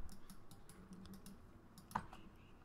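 Quiet, close clicking of computer keyboard keys in short irregular bursts during a game session, with one sharper keystroke near the end.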